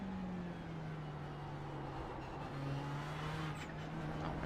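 Race car engine in a racing video game holds a steady droning tone as another car draws alongside on the right, the sustained whine shifting slightly in pitch, loud and continuous.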